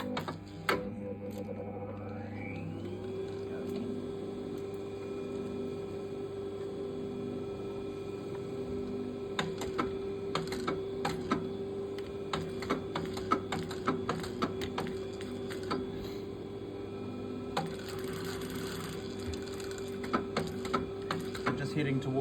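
A sewing machine attaches a facing to a jacket, heading toward the lapel point, with a steady motor hum running through most of the stretch and scattered light clicks, accompanied by a voice in the background.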